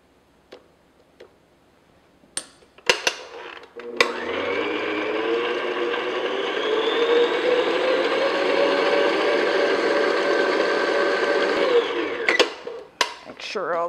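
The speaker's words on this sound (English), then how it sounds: "then I'm going to continue to beat it until it's nice and thick and smooth and creamy" An electric hand mixer beats cream cheese frosting for red velvet cupcakes, a steady close whir lasting about eight seconds, with a few clicks and knocks before it starts and after it stops.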